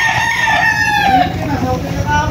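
Gamecock roosters at Tilaok Game Farm crow loudly and close by, one long drawn-out cock-a-doodle-doo rising and falling over a busy background of other birds.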